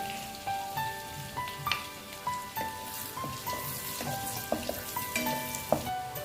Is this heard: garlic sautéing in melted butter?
yes